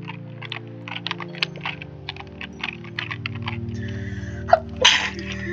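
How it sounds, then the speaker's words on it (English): A single sharp sneeze bursts out near the end, following a stretch of light computer keyboard typing and clicks over a soft background hum, with no talk. "I just sneezed for no reason"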